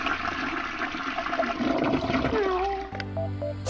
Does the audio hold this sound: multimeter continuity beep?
no